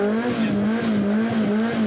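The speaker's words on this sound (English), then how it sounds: "Hugh Owen from Plymouth in the BDA Escort." A BDA-engined Ford Escort rally car runs a forest rallysprint stage in 1985, its engine a loud, close, sustained drone that rises and dips slightly in pitch as it drives past, with no talking.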